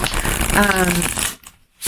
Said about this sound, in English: It is really nice to shuffle.